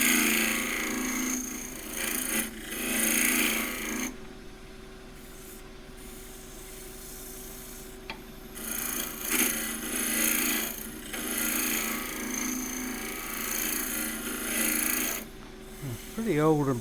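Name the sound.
wood turning tool cutting box elder burl on lathe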